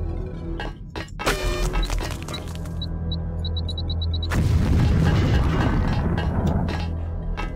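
Explosion in the video game Deus Ex: a booming, shattering blast that erupts about halfway through and sustains as a loud, rumbling roar, preceded by scattered clanks, thumps and faint beeping game effects.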